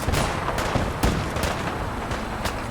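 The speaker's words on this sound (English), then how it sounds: "Stop shooting the citizens!" Dense, loud gunfire in Fallout 4 aimed at town citizens, a steady barrage of overlapping shots with sharper cracks standing out near 0.2, 1.0, 1.4 and 2.5 seconds, with no pauses between them.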